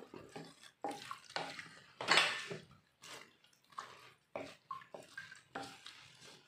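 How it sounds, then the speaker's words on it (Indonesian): Rice and water for yellow coconut rice stirred in a rice cooker pot, soft wet scraping and sloshing strokes in irregular bursts, close and fairly faint, with no talk. "Kemudian diberi air ya secukupnya. Sambil diaduk."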